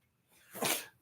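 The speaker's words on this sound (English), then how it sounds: "I feel like I have to sneeze" A single close sneeze, a brief intake swelling into a sharp, breathy burst that trails off quickly.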